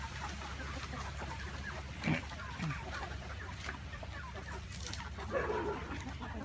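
Gamecock chickens on a farm in Ben Tre cluck as they come to feed, with scattered soft clucks and a few sharper calls over a steady low background hum.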